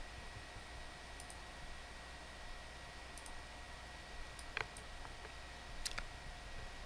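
A computer mouse gives a few small, dry clicks, some paired as double-clicks, scattered across a quiet stretch of faint steady hiss, close and with no speech.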